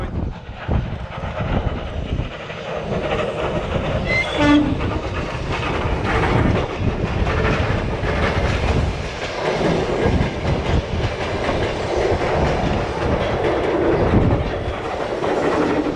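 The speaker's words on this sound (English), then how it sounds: "I have successfully filmed that electric train" An electric train rolls past a platform close by in a former uranium mining town in Kazakhstan, a steady loud rumble and rattle that holds for the whole stretch, with no voices.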